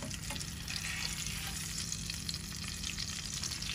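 Tilapia fish fry in hot oil with a dense, continuous sizzle, faint and steady throughout with no voices over it.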